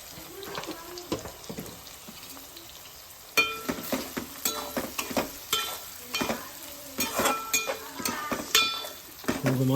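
Curry frying in a pan as turmeric is added, with crackling sizzle and stirring scrapes in irregular bursts that grow louder and busier partway through, close and clear with no talk.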